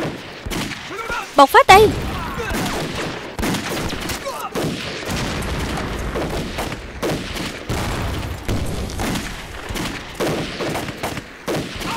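Gunfire in a Vietnamese-dubbed war film about fighting against Japan: a fusillade of loud rifle and machine-gun bursts, sharpest early on, rattles on amid battle noise while voices shout over it.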